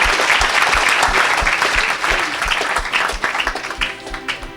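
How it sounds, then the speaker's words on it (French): A congregation at a church healing service breaks into dense, close applause that carries strongly for a few seconds and then thins out and fades toward the end. "Put your hands together."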